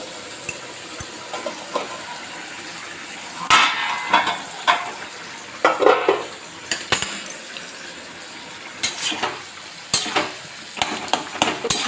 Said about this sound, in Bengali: আস্তে আস্তে এটা নিজের মতো করে ভাজাটা হতে থাক